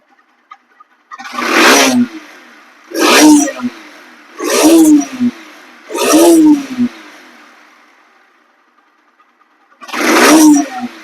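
Five loud revving bursts from a Bajaj Pulsar NS 160cc motorcycle engine, each rising then falling back to a quiet idle, evenly spaced with pauses between them.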